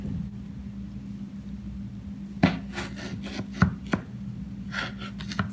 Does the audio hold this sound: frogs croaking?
no